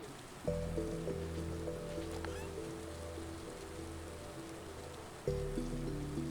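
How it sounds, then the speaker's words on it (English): Steady soft rainfall patters across a spring day in the Stardew Valley farming game, a continuous hiss with gentle chiming game music notes rising twice over it, no speech. "Rainy day in spring."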